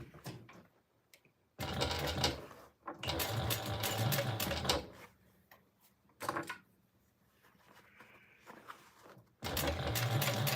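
A sewing machine bastes around the edge of fabric, stitching a back panel onto a sling, running in several loud bursts of rapid mechanical whirring separated by quieter pauses with small handling clicks.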